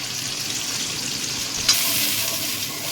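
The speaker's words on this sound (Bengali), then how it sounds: "আর দইটা দিয়ে আমি এটা একটু সাঁতলে নিয়ে বন্ধুরা আমি এই টক দইটা আমি দিয়ে দিই।" Yogurt and ginger paste sauté in a pan, giving a steady, close hiss and sizzle with a short stirring scrape partway through.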